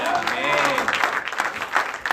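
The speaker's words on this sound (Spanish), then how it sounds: "dar un aplauso al Señor" Congregation at a Spanish-language church service clapping for the Lord, a dense rush of applause mixed with voices throughout.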